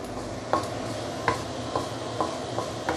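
Turmeric, red chili and coriander powders saute in oil over medium-low heat, a soft steady sizzle broken by a few light spatula scrapes and taps, quiet and close.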